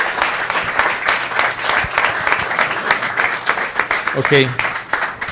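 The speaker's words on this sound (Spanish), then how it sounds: "Un aplauso. Un aplauso." Podcast audience breaking into loud sustained applause, dense clapping throughout with a voice briefly speaking over it near the end.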